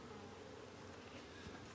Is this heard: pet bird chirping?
no